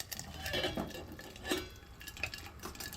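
Mustard seeds splutter in hot oil for a Goan-style dal tadka. Faint, close crackles and pops come in small bursts along with a soft sizzle.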